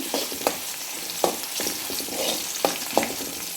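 Shallots and onion frying in coconut oil in a pan for pepper mutton roast, a steady close sizzle with a few sharp stirring scrapes and clicks, no talk.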